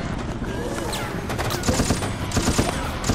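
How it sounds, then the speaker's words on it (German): Rapid bursts of automatic gunfire fill the close, cramped room in Resident Evil Operation Raccoon City, with dense, loud fusillades repeating steadily throughout. "Los, dann schieß einfach mal mit."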